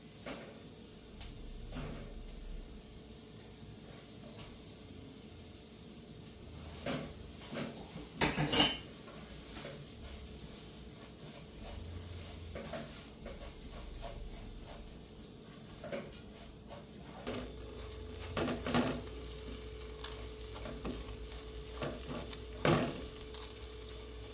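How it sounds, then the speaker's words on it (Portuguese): Rice sautéing in melted butter with onion for palm-heart risotto, a soft sizzle broken by clinks and scrapes of a spoon against the pot, with a sharp clatter partway through. "vou adicionar aqui no meu arroz para refogar junto com a cebola"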